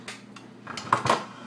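A metal mixing bowl is set into a stand mixer while making homemade bagel dough, giving a few quick clanks and a ringing metallic knock close by.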